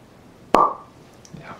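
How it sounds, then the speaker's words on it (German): A single sharp, close pop rings out as a Glückauf GB Prime pilsner-style beer bottle is opened, followed by a brief hollow ring and near silence. "Der Plopp muss sein."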